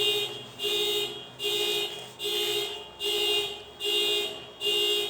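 A car alarm sounds in a steady repeating cycle, about seven evenly spaced electronic wails with short gaps between them, loud and unbroken by speech.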